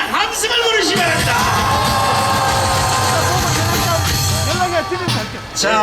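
A large crowd at an outdoor political rally shouts and cheers, a loud sustained roar of many voices with yells rising above it, continuing for several seconds before easing.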